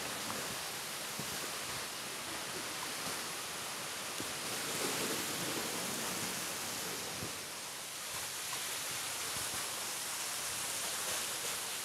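Biwa waterfall in the Iya valley of Tokushima, a steady broadband roar of falling water heard close and continuous, with no voices.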